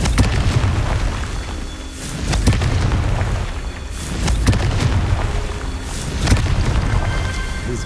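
A Confringo spell explodes in Hogwarts Legacy, with loud, deep booming blasts and crackling bursts rolling over a dense, continuous rumble of game sound.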